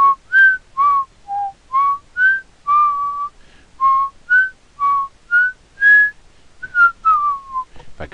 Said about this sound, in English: If I could whistle good, that might be entertaining.